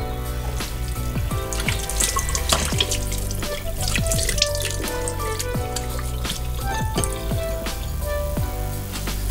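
Water runs into a sink as a face is washed with bare water during a skincare routine, with splashes, drips and close, uneven trickling that goes on throughout.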